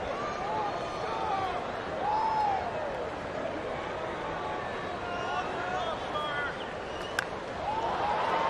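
Broad, steady crowd noise fills a baseball stadium during the Los Angeles Angels vs Detroit Tigers game, a continuous roar with bits of voice rising and falling throughout and a brief sharp knock near the end.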